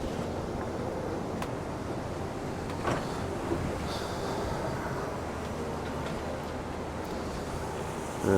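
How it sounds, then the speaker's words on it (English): Strong wind roars steadily with rough sea surging underneath on a cruise ship deck, a continuous loud rush broken by occasional gusts buffeting the microphone. "It is really, really rough and really windy."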